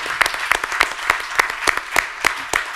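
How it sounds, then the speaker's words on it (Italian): Sparse clapping from a small audience, roughly a dozen distinct claps spaced unevenly across the short stretch, moderately close and fairly quiet, with no one talking over it. "Grazie per l'applauso."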